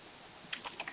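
Typing on a computer keyboard, with a few quick, light key clicks in an uneven run over a steady background hiss, fairly close.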